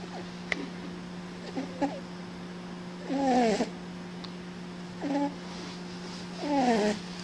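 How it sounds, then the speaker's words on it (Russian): A cat snoring while asleep, slow rhythmic rasping breaths recurring every couple of seconds, close and fairly quiet against a steady low hum, with no voices. "Первый в мире храпящий кот."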